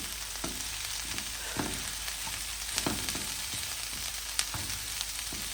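Pork fajitas sizzle and fry steadily in an old warped pan at an off-grid cabin, a continuous close crackle broken by occasional stirring scrapes and clicks.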